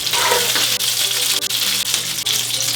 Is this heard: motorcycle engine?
no